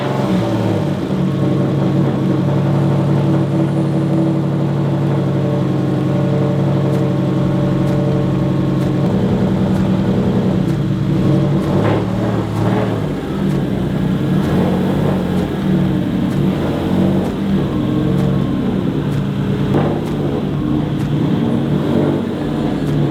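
A Subaru STI, moving under its own power for the first time in two years, rumbles steadily as it rolls into a garage, a loud, continuous low engine drone with small throttle swells and no talking.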